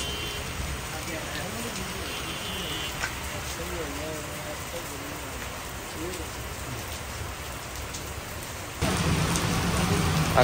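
Steady rain hisses on surfaces throughout, with murmured voices underneath; the downpour swells louder near the end.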